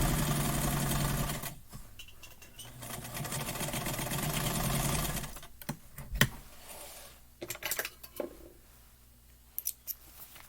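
A sewing machine stitches with a steady close whirring hum for several seconds, then stops, leaving snips and light handling clicks.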